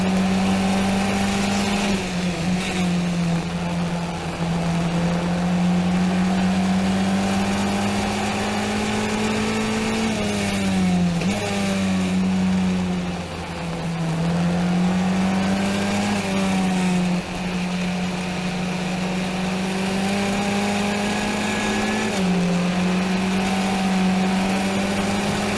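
An F1600 open-wheel race car engine drones steadily at high revs on track throughout a 2018 Round 7 race, pitch dipping briefly through corners and rising again, loud and continuous with no talk.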